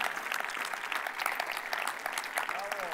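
Scattered audience clapping at a security conference talk on hacking private jet cabin systems, a fairly faint, brief patter of hands with a voice briefly audible near the end.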